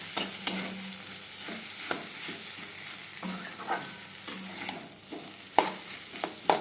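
Potatoes frying in a pan while being stirred, soft sizzling under repeated spatula scrapes and clinks against the pan, irregular and close, with no talking.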